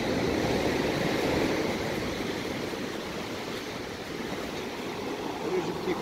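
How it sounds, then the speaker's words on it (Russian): Sea surf at a Black Sea resort in Adler, a steady, fairly loud wash of waves breaking on the shore that rolls on continuously without pause. "Шум моря послушать."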